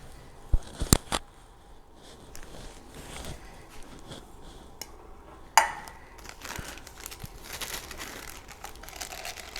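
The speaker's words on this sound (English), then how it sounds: "Now for a fine thin lining, I'm using this sandwich size Ziploc bag" A sandwich-size Ziploc plastic bag being handled up close, with a few sharp crinkles early, a louder rustle midway and softer plastic rustling in between.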